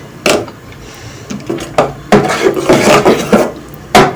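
A spoon stirs almonds, raisins and coconut into rice kheer in a pot, giving irregular scraping and knocking strokes, close and fairly loud, with no voices.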